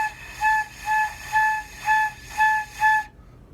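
A flute tone played with an unsteady airstream: six short wavering notes pulse on and off in an even rhythm, close and clear, then stop.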